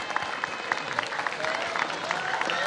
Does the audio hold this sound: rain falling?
no